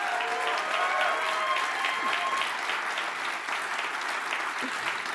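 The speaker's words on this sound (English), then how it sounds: "Can we give them a big round of applause?" Audience applause at the McLaren MCL60 Formula 1 car launch event, a sustained, even wash of clapping from a large crowd, with faint tonal sounds early on.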